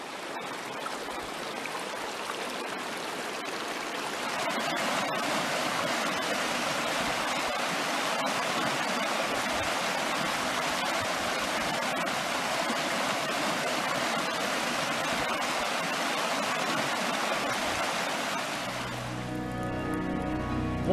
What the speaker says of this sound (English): Rainwater in this limited period largely flows away as heavy runoff.